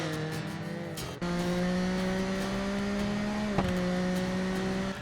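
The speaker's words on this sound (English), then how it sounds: "from the different engine noises of each bike with their own distinctive cracks and pops" A racing motorcycle in the TT Isle of Man video game holds a high, steady engine whine, briefly dropping before surging back to a constant scream, with a slight pitch dip near the end.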